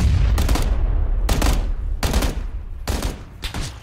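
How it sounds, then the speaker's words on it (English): Gunfire in the video game PlayerUnknown's Battlegrounds comes as five loud, evenly spaced shots close by, each with a short echoing tail over a low background rumble. "I'm providing covering fire."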